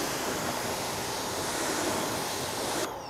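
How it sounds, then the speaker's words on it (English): Pressure wand spraying water over the wheel face and tire of a Mazda Miata, a loud, steady broadband hiss of spray held close for about three seconds before it eases off at the end. "you always want to rinse down the face of the wheel and tires just so you can knock off any loose grime and debris"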